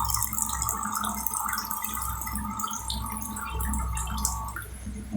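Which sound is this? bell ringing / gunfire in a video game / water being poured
water being poured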